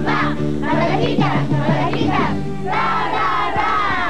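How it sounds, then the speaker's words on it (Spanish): A group of children shout a rousing cheer chant for the 'abejitas trabajadoras' (little worker bees). Many young voices yell together in loud bursts that rise and fall over a few seconds, with a busy crowd din underneath. "Vamos a darle una porra a las abejitas trabajadoras"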